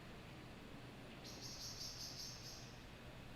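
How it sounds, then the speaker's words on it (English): Birds chirp in a video game, a short run of bright repeated calls over steady low ambient noise, starting partway through and fading before the end. "Why are there birds up here?"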